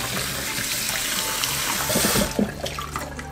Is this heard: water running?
yes